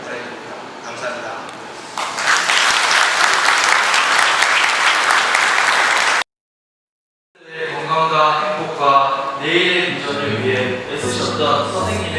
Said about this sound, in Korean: 사랑 을 담아 힘찬 박수를